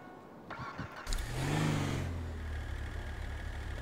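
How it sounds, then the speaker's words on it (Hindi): Car engine cranking and catching in GTA 5, a short starter whir followed by a swelling rev that settles into a steady low idle, fairly close and loud with no talk over it. "भाई चले भाई, गाड़ी स्टार्ट करो"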